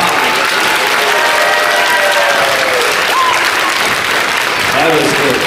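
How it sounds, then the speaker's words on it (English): A church congregation bursts into sustained, dense applause that fills the room loudly and evenly throughout, with faint voices calling out beneath the clapping. "big surge of applause"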